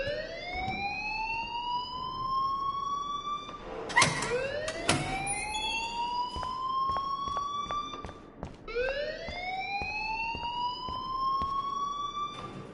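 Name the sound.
alarm ringing in a video game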